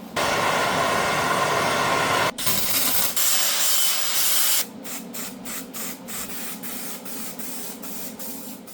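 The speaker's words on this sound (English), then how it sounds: "Now let's grind this side up" A grinder works a weld on a BMW G31 car wheel rim that was repaired with a MIG welder. The grinding is loud, close and harsh, with a sustained hiss that briefly cuts out, then a lighter, stuttering phase, with no talking.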